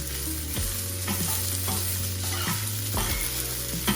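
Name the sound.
breakfast fried rice with vegetables frying and stirred in pan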